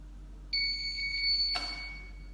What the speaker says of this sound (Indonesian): maka lampu hijau menyala dan buzzer berbunyi sekali